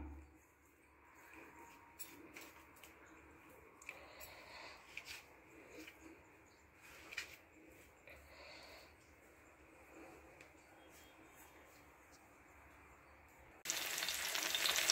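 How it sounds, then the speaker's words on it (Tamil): Pomfret fish, marinated in masala, frying in oil with a quiet, continuous crackling sizzle that flares into a loud, dense hiss near the end. "நல்லா ஃப்ரை பண்ணி எடுத்துக்கலாம்."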